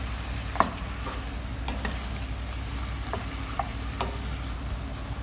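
Chicken feet sizzling in a pan while being stirred, a steady close frying hiss with several sharp clicks and scrapes of the spoon against the pan.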